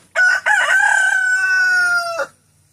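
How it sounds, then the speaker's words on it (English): A broody hen gives a single loud, drawn-out call close by. It opens with a short clipped note and stretches into a sustained tone lasting about two seconds, heard alone in a quiet setting. "She's still making all the broody noises"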